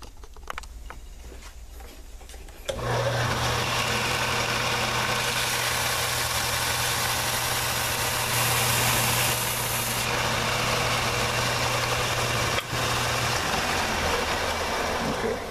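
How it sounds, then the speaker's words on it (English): A bench sander evens out the handle scales of a cleaver, starting after a brief quiet moment and then running as a loud, steady mechanical hum with a constant abrasive whir throughout. "So I'm going to go ahead and even these out on the sander."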